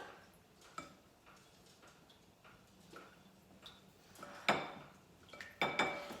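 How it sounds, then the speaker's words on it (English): A spoon stirs salmon croquette batter with juice and baking soda, giving faint scrapes and several sharp clinks against the bowl that grow louder near the end, close and quiet with no talking. "I'm just going to mix that around to incorporate the juice and the baking soda"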